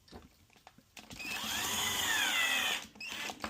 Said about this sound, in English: I'm okay to drill it straight in here